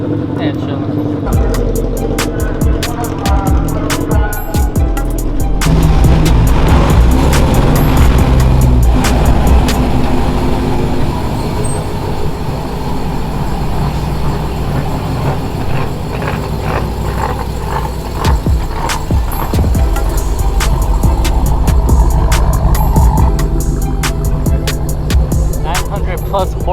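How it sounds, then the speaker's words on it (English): Loud boosted cars and trucks, including a 900-plus-horsepower Hellcat, rumble and rev at an outdoor car show. Dense engine roar runs throughout, with people talking over it. "there's like trucks out here, cars out here, loud as making a show"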